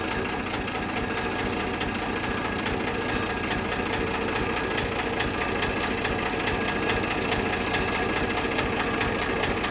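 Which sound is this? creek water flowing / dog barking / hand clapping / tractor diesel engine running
tractor diesel engine running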